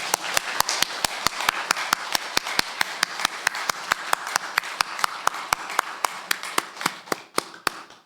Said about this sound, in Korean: 우리도 힘차게 박수하며 우리 하나님께 영광 돌립니다.